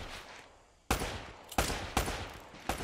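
Enemy gunfire in Uncharted: Drake's Fortune, a string of four loud, sharp bursts of shots about half a second apart, each ringing out, after a quieter fading tail of earlier fire.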